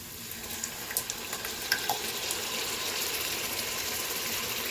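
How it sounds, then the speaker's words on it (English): Pasta sauce poured from a bottle into a hot pan while cooking mushroom spaghetti gives a steady, close sizzling hiss with faint liquid splashes that runs without pause and with no talk. "So here's the pasta sauce, and I'm gonna just go ahead and pour it until this part"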